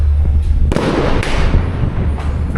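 Holiday celebration fireworks bursting at night over a lakeside town in San Juan La Laguna, Guatemala, with a sharp crack followed by rolling, overlapping booms and a steady low rumble throughout.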